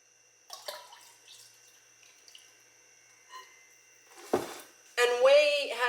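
Whey poured into a container in a kitchen, with small clinks and trickles early on, then a splashy liquid stream filling the vessel loudly at the end.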